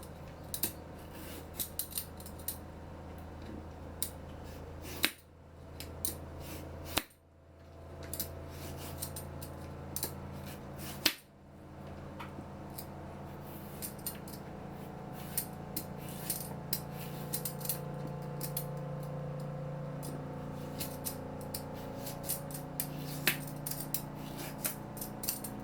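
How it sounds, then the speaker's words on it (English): A knife julienning zucchini, a steady stream of quick, close cutting ticks against a board that runs continuously with only a few brief pauses, no speech. "Moving on to the zucchinis, same julienne cut."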